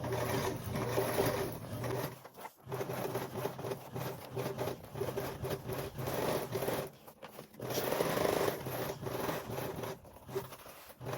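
A sewing machine stitches neoprene in long, steady whirring runs, with two brief pauses between bursts of buzzy mechanical stitching.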